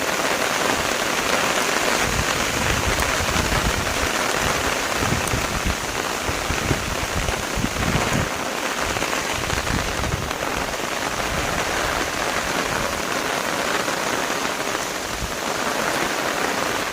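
Heavy rain pours steadily onto a village garden, a dense, continuous patter of drops on leaves and ground lasting throughout, with no voices.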